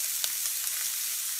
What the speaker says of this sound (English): frying off the rest of the prawns.